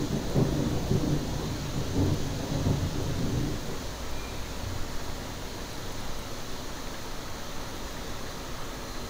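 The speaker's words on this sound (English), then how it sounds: "That thunder sounds" A heavy rumble of thunder rolls through the first few seconds over a steady wash of rain in Minecraft, then settles into constant rainfall.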